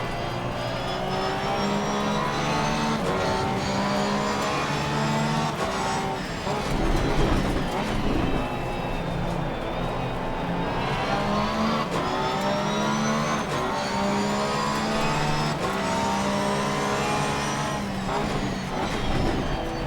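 Racing cars in Assetto Corsa Competizione, driven from a Porsche GT3 R in a multiplayer race at Barcelona, produce a loud, continuous engine roar with rising and falling revs through gear changes, while other cars run close alongside.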